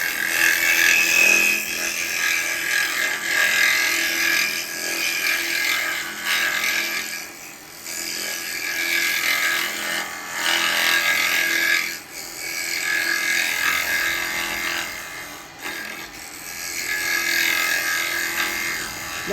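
A wood lathe cuts steadily while a yew pot is hollowed. The tool's loud, continuous rasping whir swells and dips as it presses into the spinning wood, with no voices.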